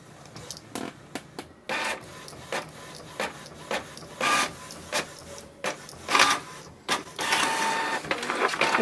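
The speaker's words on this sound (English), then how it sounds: "I have placed the ink cartridges in the printer" An inkjet printer with Kingsun refill ink cartridges runs in bursts, with repeated mechanical clicks and whirring passes of the print head, some louder than others, fairly close.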